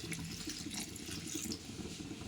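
Half a glass of water poured into a chicken fry pan makes a brief, close splash and bubbling hiss, steady throughout with no talk.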